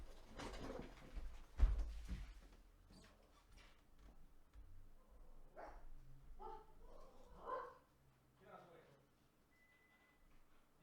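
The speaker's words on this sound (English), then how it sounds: "Now my dogs are barking." Dogs bark a few times in short bursts, then a person talks while faint barking and bird coos sound in the background.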